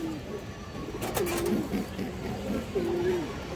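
Domestic pigeons, including hens kept for high-flying and racing, coo in a drawn-out, wavering call, heard twice in close succession against a steady murmur of background noise.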